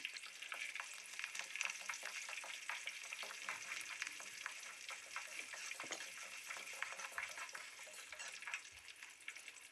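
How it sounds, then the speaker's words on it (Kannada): Garlic and curry leaves sizzle steadily in oil over a low flame for a Karnataka-style huli anna (tamarind rice), a continuous close crackle with small spatters and no talk. "ಬೆಳ್ಳುಳ್ಳಿ ಕರಿಬೇವಿನ ಸೊಪ್ಪು ಹಾಕ್ಕೊಳ್ಳೋಣ ಸ್ವಲ್ಪ ಫ್ರೈ ಮಾಡ್ಕೊಳ್ಳಿ ಲೋ ಫ್ಲೇಮಲ್ಲೇ ಇರಲಿ"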